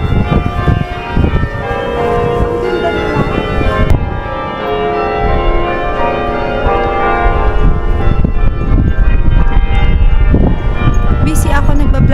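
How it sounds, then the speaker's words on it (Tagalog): A cathedral bell rings with sustained, ringing tones in a city, fairly steady and moderately loud, while people talk over it nearby. "wow, that's the bell"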